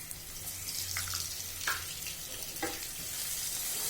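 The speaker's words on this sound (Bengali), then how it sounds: "পেঁয়াজটা ভাজা হতে থাকুক" Onion frying in a pan, a soft, steady sizzling hiss with a few brief stirring scrapes and no talking.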